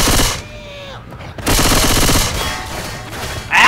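Gunfire in Left 4 Dead 2: loud, rapid automatic bursts close by, one at the start and a longer one in the middle, with a short fresh volley at the end and brief quieter gaps in between.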